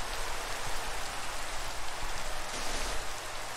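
Rain falls steadily in Minecraft on a beach being built with sand, a constant dense hiss of drops at even loudness with no voices.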